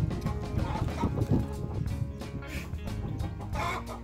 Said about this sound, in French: Les poules à chaque fois qu'elles le voient, elles chantent.